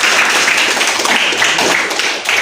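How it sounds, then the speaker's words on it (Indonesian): Dense, steady applause from a crowd, many hands clapping together without a break for a couple of seconds. "Tepuk tangan lagi."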